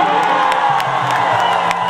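A large crowd at a Bhojpuri concert cheers loudly and continuously, with whoops and shouts rising from a dense roar close around the listener.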